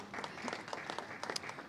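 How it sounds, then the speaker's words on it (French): Light audience applause at the Salon de la Radio 2020 as a podcast finalist is welcomed, with distinct individual claps in an uneven rhythm from a modest crowd in a hall. "Je vous demande d'applaudir"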